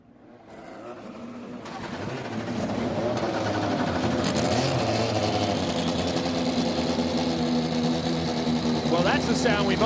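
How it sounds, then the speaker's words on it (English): Indy NXT by Firestone race car engines starting up at the Mid-Ohio Grand Prix in 2024, a buzzing engine chorus swelling from quiet to a loud sustained idle and rev drone, with a voice speaking over it. "Here's 19 Indy NXT by Firestone, starting engines live."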